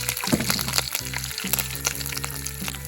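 Curry leaves crackle and sizzle in hot oil in a pan for a Kerala-style lemon pickle, a steady close frying hiss with scattered small pops and no talking.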